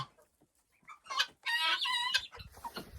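Chickens in an unheated, uninsulated winter coop cluck and squawk in bursts, with one louder drawn-out call near the middle and quieter clucks around it.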